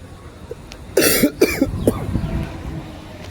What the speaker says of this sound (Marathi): खोकला झालाय फार.